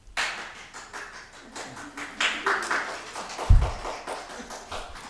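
Listeners at a Buddhist Chan teaching session clap unevenly, the claps building from a few taps into a loose run and then falling into scattered, moderate-level clapping.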